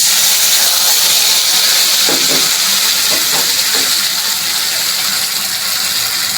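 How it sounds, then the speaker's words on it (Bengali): Water hits a hot pan of frying ginger, cumin and dried red chilli spice paste, giving a loud, steady rushing hiss that stays close and continuous throughout with no voices. "তাতে সামান্য পরিমাণ জল দিয়ে দিলাম"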